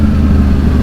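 Yamaha R1 Big Bang motorcycle from 2012, its engine running steadily and loud at close range, with a deep low rumble throughout the brief moment and no talking over it.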